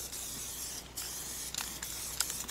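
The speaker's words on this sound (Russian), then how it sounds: "рекомендую всем сначала взять какой-нибудь нейтральный баллончик и вот так вот" An MTN94 spray paint can hisses in steady bursts while graffiti is painted, the spray cutting off briefly and resuming several times, close and fairly quiet.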